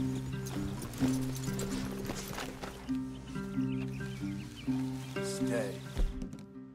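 Horse hooves clip-clop steadily at a walking pace in Red Dead Redemption 2, over a tonal droning backdrop, with a few brief vocal sounds mixed in.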